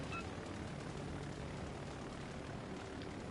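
Carrier aircraft flying in World of Warships: Legends, a constant droning propeller roar that stays steady and fills the whole stretch.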